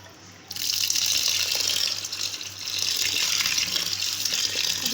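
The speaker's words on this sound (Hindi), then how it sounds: "ये स्पैगेटीज जो है ये बॉईल हो गई है। अभी इसको किसी टोकरी में छान लेंगे।" Water gushes steadily as a pot of boiled spaghetti is drained through a colander in a home kitchen. The pour starts abruptly and continues as a loud, even splashing rush.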